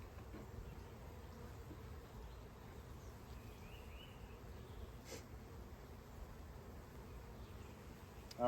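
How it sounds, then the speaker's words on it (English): Honey bees on hive frames drone in a faint, continuous buzz throughout, a soft steady hum with no voices, ending in a brief louder rustle. "All right, now the rest of the bees that are on these frames,"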